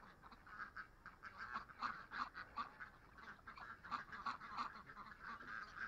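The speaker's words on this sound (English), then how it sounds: "Confused ducks." Ducks in a barn pen quack and honk repeatedly in an irregular chatter, faint and somewhat distant, with no talking.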